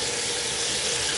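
A razor, likely the Yaqi SE AC, is rinsed under a steady stream of running tap water that pours close and loud into a sink without pause.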